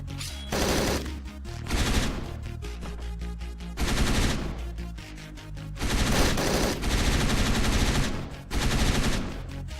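Hotline Miami 2: Wrong Number gunfire rattles in loud, dense bursts of rapid automatic shots, close and harsh, broken by brief gaps between volleys.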